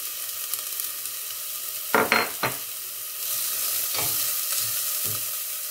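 Onion sautéing in a pan for pumpkin soup gives a bright continuous sizzle that swells after a few seconds, broken by a handful of sharp spatula scrapes and taps, with no voices.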